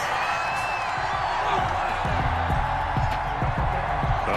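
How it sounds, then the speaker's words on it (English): A Madden NFL stadium crowd reacts to a roughing-the-passer penalty call with a continuous loud, dense crowd roar, while a commentator-like voice talks over it. "Well, this crowd does not like that call"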